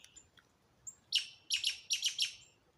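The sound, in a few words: juvenile woodpecker calling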